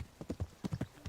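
Horse hooves clip-clop at a steady trot in the medieval game Kingdom Come: Deliverance, about eight sharp, close hoofbeats in quick rhythm with no other sound.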